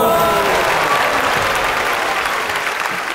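Loud, dense applause from a television studio audience at a Vietnamese children's talent show, sustained clapping that fills several seconds and slowly tapers, with a faint voice underneath.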